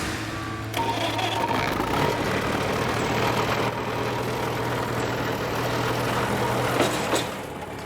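A 3-ton tractor engine restarts after a fuel blockage is cleared and settles into a steady, low, throbbing idle that runs continuously at moderate volume in an outdoor setting.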